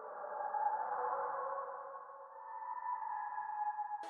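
A grainy, reverb-soaked delay effect smeared across a vocal, sustained and tonal with a smooth skidding drag, steady and fairly quiet throughout, cut off by a brief click at the very end.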